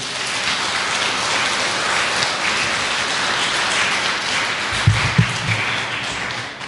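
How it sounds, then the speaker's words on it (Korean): Church congregation at an Easter Sunday service applauding the choir after an Easter cantata, a steady dense wash of many hands clapping throughout, with a few louder close claps near the end. "우리 정가들을 위해서 큰 박수 다시 한번 드리죠"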